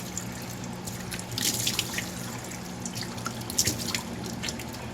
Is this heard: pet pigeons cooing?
no